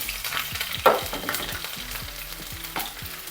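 Garlic cloves dropped into hot oil with popped mustard seeds, a steady close frying sizzle with scattered crackles and light stirring clatter, no voices.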